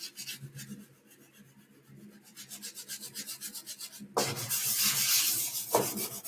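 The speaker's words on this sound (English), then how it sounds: "180 grit sandpaper. I use that because it'll keep it from cutting through the paint super fast." Sandpaper of 180 grit rubs back and forth over a painted foam model aircraft, an F-14 Tomcat, in quick rhythmic strokes, soft at first and then louder and rougher, close by with no talk.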